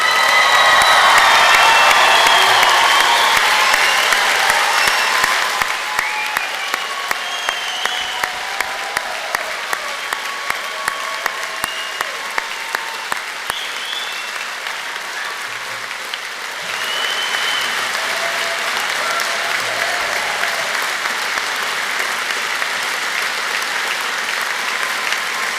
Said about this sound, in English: I would like you to stand this time to applaud, cheer and shout as loud as you can